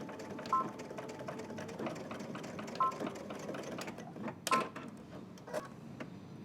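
Close machine stitching back and forth along a cropped jacket seam, with short bursts of needle clatter and a few sharper clicks as the direction reverses.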